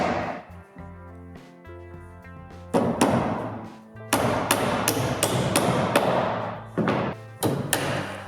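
A hammer drives nails into the last wooden plank of a wooden garden shed with loud, close, sharp strikes, a couple at first and then a quick run of about a dozen, over faint background music.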